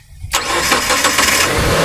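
A 2015 Mitsubishi T120SS pickup engine cranking and catching, a brief starter whir then an immediate steady idle that stays loud and close for the rest of the moment.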